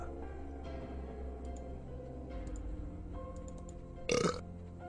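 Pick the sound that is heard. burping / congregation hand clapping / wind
burping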